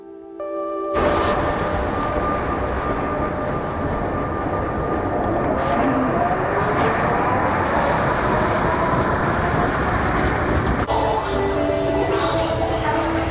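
A train rumbles steadily along the rails, with a continuous loud roar, metallic squeals and clatter throughout.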